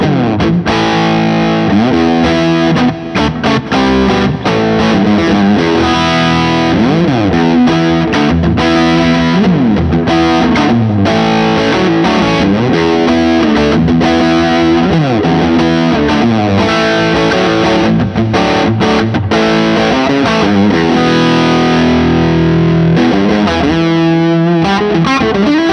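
An electric guitar on its humbucker pickup drives a Vertex UltraPhonix MkII Dumble-style overdrive pedal, giving a thick, continuous, saturated tone of chords and lead lines, loud and close with no talking.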